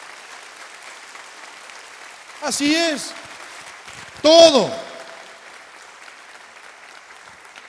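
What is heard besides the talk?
church congregation applause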